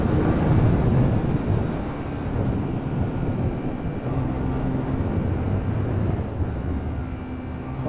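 A motorcycle engine drones steadily during a long-distance ride, a loud low rumble mixed with wind buffeting, constant throughout with no speech.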